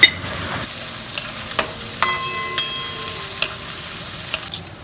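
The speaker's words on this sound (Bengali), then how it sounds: "এই অন্য একটা কড়াইতে আমি সব শুকনো মশলা বা গোটা মশলাগুলো যেমন তেজপাতা, এলাচ, দারচিনি, লবঙ্গ এগুলো দিয়ে একটু করে ভেজে নেব" Whole spices such as bay leaf, cardamom, cinnamon and cloves fry with onion in a wok, a steady close sizzle punctuated by several sharp spoon taps and scrapes against the pan.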